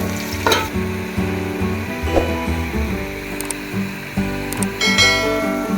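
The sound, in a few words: sliced onions frying in oil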